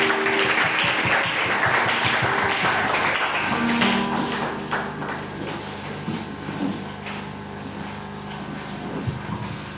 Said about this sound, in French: Acclamez encore pour le Seigneur.